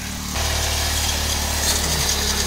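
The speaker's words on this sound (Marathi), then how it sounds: "हे काय गवत कापणी आहे" A small grass-cutting machine engine starts up abruptly on a farm and runs steadily with a buzzing, droning roar, close and loud, its pitch wavering slightly.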